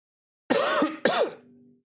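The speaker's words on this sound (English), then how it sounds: "Sorry for coughing." Two rough, throaty coughs in quick succession, close and fairly loud, the second trailing off into a short wheeze.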